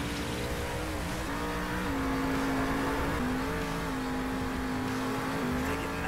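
A monster truck engine drones steadily through a military base in Monster Jam Steel Titans 2, its pitch wavering slightly as the truck drives on without pause.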